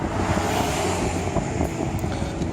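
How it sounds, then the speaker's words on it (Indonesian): Sandstorm wind roars in a steady, dense rush with no pauses, a constant loud blast of air buffeting the microphone. "Gimana kalau badai pasir kayak begini coba?"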